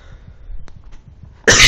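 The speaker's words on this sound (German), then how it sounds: "Hust, hust." A person gives a single loud cough near the end, sharp and close after a stretch of faint background noise.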